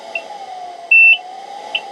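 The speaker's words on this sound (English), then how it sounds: "you can hear it beep now" Short electronic beeps from a German army PAPR unit: a faint chirp, then a longer steady high-pitched tone, then another brief chirp, over a constant low hum.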